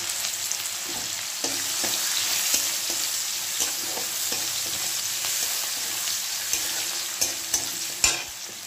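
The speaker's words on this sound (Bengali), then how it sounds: "আর পেঁয়াজ কুচানো দেবো, একটু ভেজে নেব" Chopped onion and garlic fry in a little oil, a steady close sizzle broken by repeated scrapes and taps of a stirring spoon, with a sharper clatter near the end.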